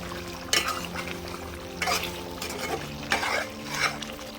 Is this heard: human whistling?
no